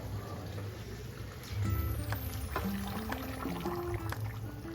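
Hot water is poured into a pan of ghugni curry, a short splashing pour that swells partway through amid kitchen clatter and a low background hum.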